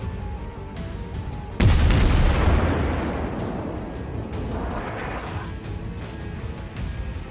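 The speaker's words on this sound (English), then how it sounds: "Trying to hose down the New York with some HE to get some fires going" Booming naval gunfire from a Königsberg cruiser's HE salvo in World of Warships, a loud sudden broadside blast followed by a long rumbling decay over steady battle ambience.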